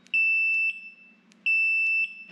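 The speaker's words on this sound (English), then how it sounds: "That's electric horn." An electric horn on an Addmotor Grandtan M-340 e-trike gives two steady, piercing electronic blasts, each about half a second long, close by with a short pause between them.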